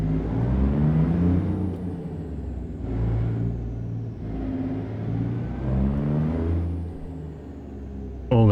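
Straight-piped truck engine in Euro/American Truck Simulator rumbles loud and close, swelling and easing through a few revving surges with a deep, throaty tone and a sharp burst at the end.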